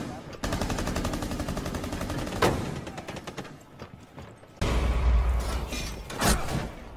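Gunfire crackles in a Rainbow Six Siege match, with rapid automatic bursts near and loud that pause and then resume, and a voice speaks faintly in between.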